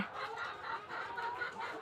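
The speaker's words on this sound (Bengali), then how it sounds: "আপনারা দেখতে পাচ্ছেন অনেকগুলো মুরগি" Many laying hens cluck continuously together, a dense, fairly quiet chorus of overlapping clucks with no talking.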